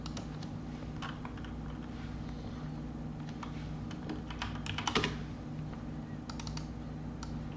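Someone types a file name on a computer keyboard, making quiet, scattered key clicks with a slightly busier burst near the end over a low steady hum.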